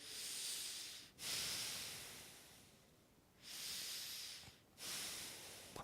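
Slow, deep breaths during a hips-on-wall mobility exercise: three long airy exhales and inhales, close and quiet, separated by short pauses.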